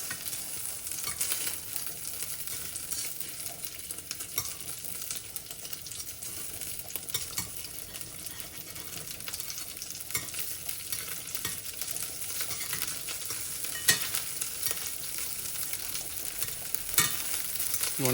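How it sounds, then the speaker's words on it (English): Guanciale frying in its own rendered fat for carbonara, a steady, dense sizzle and crackle running throughout with occasional louder pops and faint stirring, no voices. "the guanciale is kind of getting a bit crisp on one side, and you can see that a lot of oil has actually come out of it"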